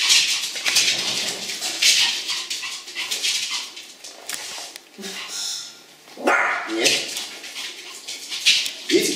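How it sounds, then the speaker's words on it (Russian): A Pomeranian spitz barks in repeated sharp yaps, loud and close, in bursts with short gaps, and a person talks at points between the barks. "Когда он начинает лаять"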